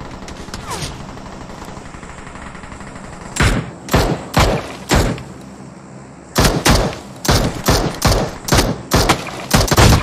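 Gunfire in PUBG Mobile: after a quiet stretch, a sharp early shot, then loud rapid bursts of repeated shots in two volleys, close and punchy with short gaps between.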